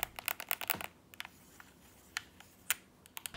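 Crisp clicks from the buttons and D-pad of a BINBOK Switch controller: a quick rapid cluster at first, then sparse single clicks, close and quiet.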